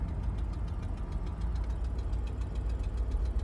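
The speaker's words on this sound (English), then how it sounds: "Lugging the engine." 1990 Oldsmobile engine lugging at 30 mph with the torque converter clutch locked, a low, steady, slightly rough drone with faint knocking pulses, heard up close and alone.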